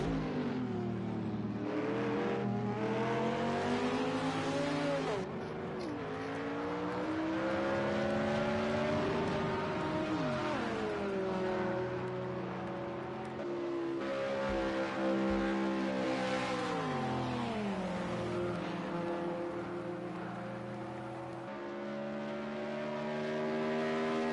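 A Nissan Group C prototype race car at Le Mans roars continuously at high revs, its engine note rising and falling through gear changes, loud and close throughout, with no voices.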